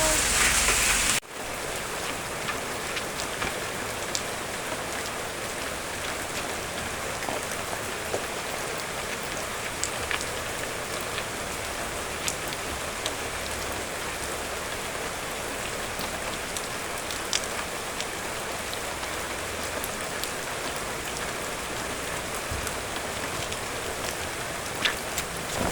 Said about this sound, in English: पानी आउँदैछ, पानी पनि पर्दैछ